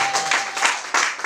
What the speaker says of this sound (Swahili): Mpe Yesu makofi mengi.